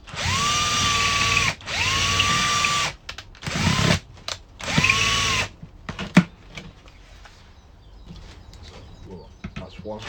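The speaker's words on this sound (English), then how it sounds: "we need to drill the holes in the bottom of them now" A power drill whirs in steady bursts while boring holes into the bottom of a plastic water bottle, each burst rising to a sustained whine, followed by handling clatter and light knocks.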